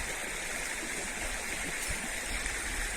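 A stream flows with a steady, even rushing hiss of water, continuous and moderately faint throughout the few seconds.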